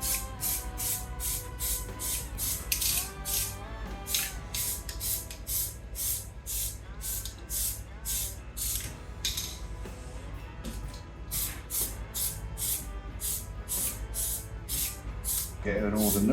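Short bursts from an aerosol spray can as a 1967 Ford F100 engine bay gets a light first coat of paint, a steady rhythm of repeated hisses over a constant background hum, with faint clinks between some bursts.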